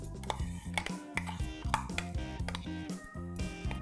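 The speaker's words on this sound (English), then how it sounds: "I'm going to simply add this paste to the prawns" Shelled, deveined prawns being mixed with a rava marinade paste in a bowl, a quick run of soft wet squelches and light clinks of utensil against the dish, close and faint.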